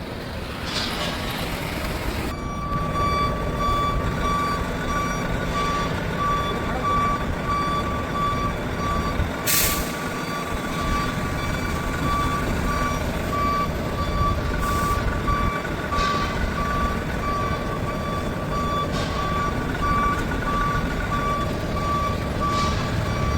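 Reversing beeps from a truck backing up, a steady repeating electronic tone over a continuous rumbling engine and road noise, with a few sharp clanks along the way.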